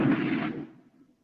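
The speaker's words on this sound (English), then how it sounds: "Sorry if you hear fireworks" A single firework bursts outside with a deep, booming thud that quickly fades into a faint rumbling tail, heard alone without any talk.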